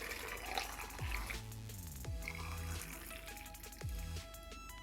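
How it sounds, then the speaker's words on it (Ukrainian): Hot syrup is poured into jars of steamed tomatoes for winter canning, a soft close liquid pour with gurgling fill tones and a few small clinks, no talking. "зливаю ту воду, яка в мене була, парилися помідорчики, і заливаю сиропом"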